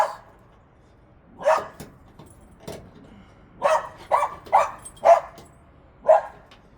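A dog on a home front porch barks in a string of short, sharp yaps, six or so spaced irregularly over several seconds, close and loud against a quiet background.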